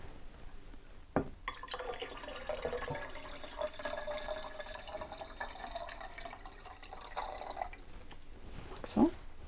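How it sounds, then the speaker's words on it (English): Water pours steadily into a jar for making kombucha for several seconds, a close splashing trickle that stops, followed by a brief clink or drip near the end. "And the rest you can just add water."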